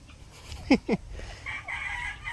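Two short, loud turkey calls ring out close by, followed by softer, higher chattering calls from the flock.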